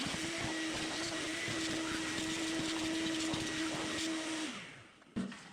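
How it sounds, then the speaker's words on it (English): A vacuum cleaner runs steadily and loudly at close range, cleaning out a BMW E39 cabin air filter housing, then winds down near the end, followed by a brief knock. "Let me vacuum everything out now that I get this uncovered."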